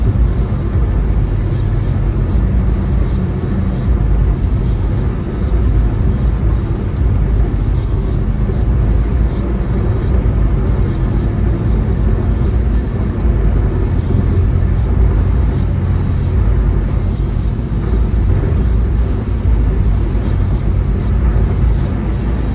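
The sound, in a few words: car driving in traffic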